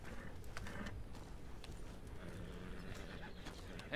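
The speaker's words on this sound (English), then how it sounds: "Why am I taking my horse down here, too?" Horse hooves clip-clopping in Red Dead Redemption, a soft steady trot under a low rumbling game soundscape, faint and continuous.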